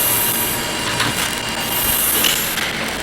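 A subway train rolling along, a dense, steady roar of wheels and rattling cars with a high metallic hiss, close and continuous with no talk.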